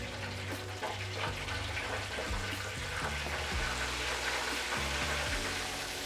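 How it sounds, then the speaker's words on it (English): Breaded shrimp for buffalo shrimp deep frying in hot grease in a fryer, a steady bubbling hiss at low level, continuous and even, with no voices over it. "Let's get to the fryer. All right, so let's start dropping them in here."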